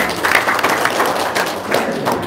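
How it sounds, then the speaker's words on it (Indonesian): Live-stream audience clapping in a room, uneven bursts of hand claps and thuds with a few louder peaks, fairly close and without talk. "Tepuk tangan dong."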